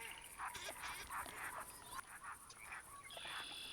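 Gadwall ducks calling in theHunter Classic hunting game, a flock giving rapid nasal quacking chatter in repeated bursts, fairly faint and continuous over a quiet outdoor background.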